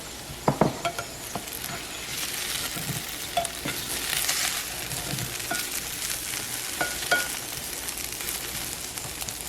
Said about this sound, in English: So I'm going to get those started and flip my potatoes.